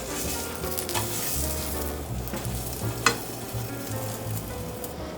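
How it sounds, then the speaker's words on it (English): A flipped omelet of eggs fries in a pan on a stovetop, giving a steady close sizzle throughout with a single sharp clink of a utensil near the middle and no voices. "Now I'm gonna flip the eggs"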